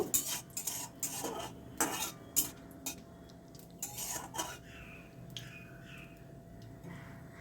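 Dried red chili and radhuni seeds tempering in a pan for Bengali ash gourd shukto, a spoon scraping and clinking against the metal in several quick bursts over a low background sizzle, no voices.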